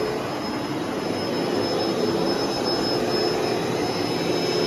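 A carpet steam cleaner runs and spins with a constant, loud, broadband motor roar and a thin high whine. The sound holds steady for the whole stretch, close by and with no talking.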